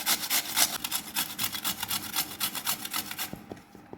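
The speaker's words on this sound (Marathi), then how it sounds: "आणि इथं आपण आता बटाटे खिसून घेऊया." Raw potatoes rubbed against a hand grater in quick, even rhythmic strokes, a close scraping rasp that fades out near the end.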